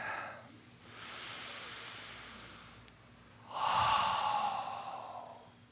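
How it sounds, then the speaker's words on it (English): A person takes a slow, deep breath during a spiritual talk, with a long airy inhale followed by a fuller, louder exhale, heard close and quiet with no speech. "Take a deep breath with me."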